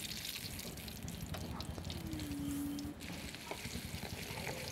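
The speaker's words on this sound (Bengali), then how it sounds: "আমার ঝাল কম হয়েছে সেই জন্য একটু মরিচ ভেজে দিচ্ছি।" Chillies frying in a pan as a tempering for a lentil and jute leaf dish, a faint steady sizzle with small watery crackles and a brief tonal squeak partway through.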